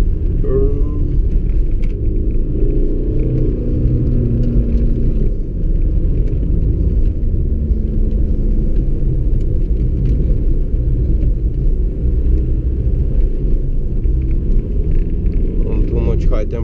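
A remapped 2000s Audi A3 8L 1.9 TDI diesel pulling in second gear through town, a loud, steady low rumble from inside the cabin with the engine note rising and falling slightly.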